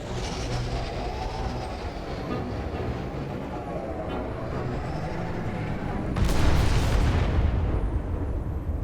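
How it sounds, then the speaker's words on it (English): In Star Trek: Resurgence, a sudden loud explosion bursts out late over a continuous low rumbling background, swelling briefly before fading back into the drone. "Wasn't really expecting an explosion then."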